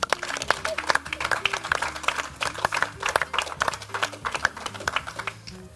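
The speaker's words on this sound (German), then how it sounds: "Ein Applaus für Salome Jagler." Audience applause during a raclette grill cooking challenge broadcast, a steady patter of many hands clapping at moderate volume throughout, with some voices mixed in underneath.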